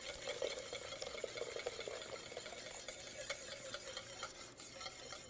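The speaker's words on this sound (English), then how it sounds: "now we can add all of the eggs to the cream, whisking the entire time" A whisk beats eggs into cream in a pot for vanilla ice cream custard, making fast, continuous scraping and clinking strokes at close range with no talking.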